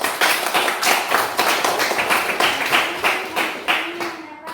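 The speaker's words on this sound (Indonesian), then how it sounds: "tepuk tangan untuk kelompok 1" Students in a classroom clap for their classmates in group 1 after a presentation, a rhythmic, fairly close burst of group clapping in regular beats that fades out at the end.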